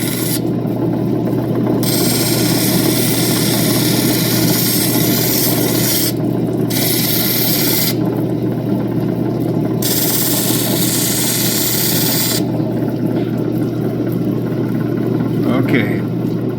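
An opal ring is sanded by machine, a loud continuous abrasive rasping that stays close and steady, with brief stretches of changing grit pitch and a steady motor hum underneath.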